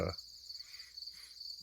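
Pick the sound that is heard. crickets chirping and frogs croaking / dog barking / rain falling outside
crickets chirping and frogs croaking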